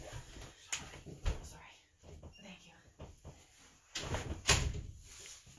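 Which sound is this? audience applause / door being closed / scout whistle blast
door being closed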